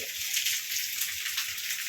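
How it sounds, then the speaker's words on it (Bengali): Heavy rain falling steadily in a village, a dense continuous hiss of drops close by with no talk. "প্রচুর পরিমাণ বৃষ্টি হইতেছে।"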